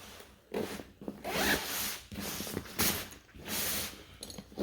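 A zipper on a North Face Base Camp Voyager 42L duffel bag is pulled in several quick rasping strokes with short pauses between them, close and clear.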